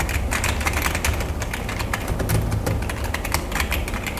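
Rapid, continuous clacking of keys on a Fantech Sakura Edition keyboard with floating switches, a dense close-up patter of light taps with no voices.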